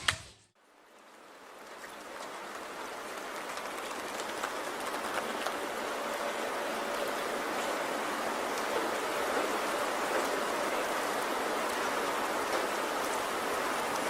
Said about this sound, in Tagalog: Mukhang napapadalas yata ang pag-ulan ah.